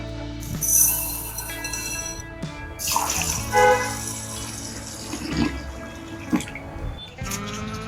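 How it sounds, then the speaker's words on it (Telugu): Water splashes and swishes in bursts as basmati rice is rinsed, with soft clinks and gurgles against a steady background hum. "వీటిని ఒక రెండు సార్లు కడిగి పక్కన పెట్టేయాలి"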